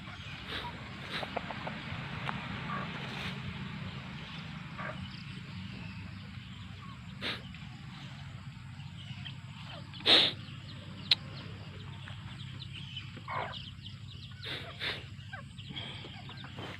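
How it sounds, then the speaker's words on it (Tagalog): Pet chickens cluck softly around a backyard feeding spot just after being fed, sparse short calls scattered over quiet outdoor ambience, with one or two louder squawks standing out. "Alaga kong manok."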